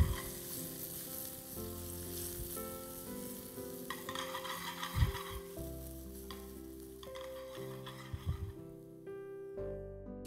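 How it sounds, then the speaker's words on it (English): Mushrooms sauteing in ghee over a high flame, a soft continuous sizzle with occasional stirring knocks, fairly quiet and close, with a faint tonal hum in the background. "I'll saute the mushrooms."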